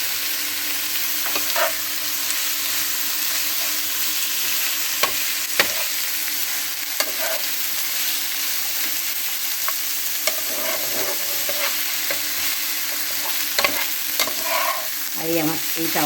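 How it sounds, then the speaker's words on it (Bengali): Mushroom pieces with potato and eggplant fry in a flat pan over high heat, giving a constant, close sizzle punctuated by occasional scrapes and stirring clicks, with no voices. "একটু আলু বেগুন দিয়ে এটাকে একটু ভেজে নিচ্ছি"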